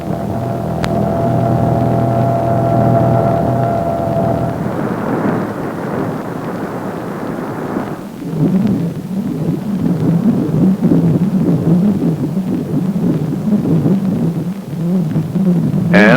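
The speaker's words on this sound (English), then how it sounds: "he identified his moving target by its characteristic audio tone." An AN/PPS-5 manpack ground surveillance radar gives the audio return of a tracked vehicle, a steady droning hum that shifts into a rapid throbbing, pulsing modulation, loud and continuous with no speech.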